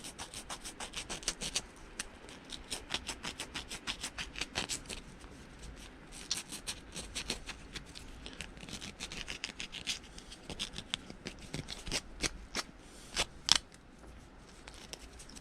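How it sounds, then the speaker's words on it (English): Sandpaper rubs over a small part for a 160 mm (6-inch) glider in fast, close, continuous back-and-forth strokes, a dry rasping scratch with brief pauses and no talking. "Hit it with some crappy sandpaper."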